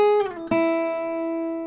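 Guitar note sliding down from a higher to a lower pitch, a brief descending glide settling onto one sustained ringing tone, close and unaccompanied.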